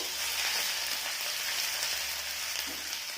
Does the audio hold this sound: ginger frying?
yes